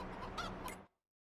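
A single short cluck from chickens on a farm in Farming Simulator 22, set on the Bavarian Forest map, sounds close and clear before cutting off into silence.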